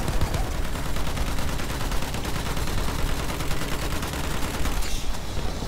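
Dense, unbroken gunfire from a Battlefield 1 online battle: rapid overlapping rifle and machine-gun shots crackle loudly and continuously throughout.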